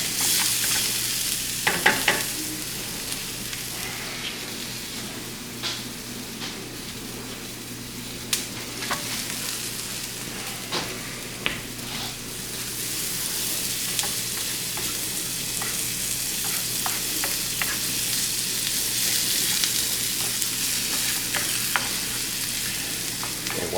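Butter sizzles steadily in a pan as omelette ingredients sauté for a breakfast meal, with scattered clicks and scrapes of stirring over a continuous close frying hiss.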